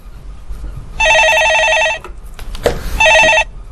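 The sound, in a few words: telephone ringing on call-in show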